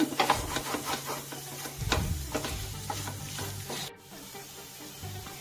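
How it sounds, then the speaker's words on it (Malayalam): Chicken being stirred in a cooking pot, steady scraping and sizzling of a spoon against the pot in rhythmic strokes, close and alone, with a brief pause near the end. "ചിക്കൻ ചേർത്തെടുത്തിട്ട് നമ്മൾ നന്നായിട്ട് തന്നെ മിക്സ് ചെയ്തെടുക്കുക കേട്ടോ."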